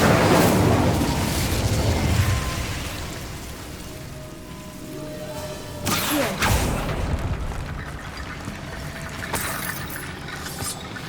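An Incendio fire spell is cast in Hogwarts Legacy, a sudden fiery burst flaring midway through, set against a steady rain-like roaring wash of game ambience with another bright swell near the end.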